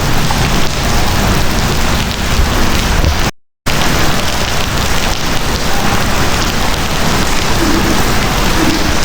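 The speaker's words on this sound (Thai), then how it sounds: "ฝนตกหนักเลยนะครับ" Heavy rain falls in a loud, constant roar of drops on surfaces, cut by one brief silent gap, then resuming just as dense.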